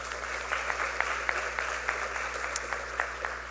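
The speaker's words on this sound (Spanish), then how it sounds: "Un fuerte aplauso para él" Audience applause at an international public legal management seminar, a dense sustained clapping from a hall full of listeners over a steady low hum, with sharper individual claps standing out at a fairly regular pace.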